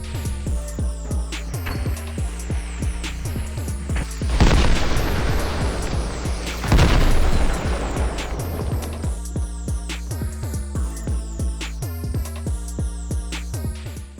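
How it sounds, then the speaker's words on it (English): Fireworks go off in the Fortnite video game: two heavy booming bursts over a loud, pulsing music track that plays throughout. "Hope you don't mind that the fireworks are early."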